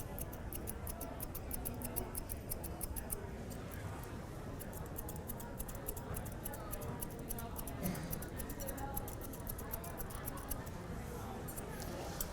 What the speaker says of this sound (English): all of this hair that's hanging on the back of the leg, I'm going to trim that too